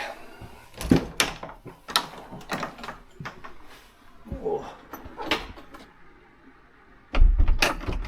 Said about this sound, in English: Let's just shut the door to keep the heat in. There's a bit of a bolt going on there.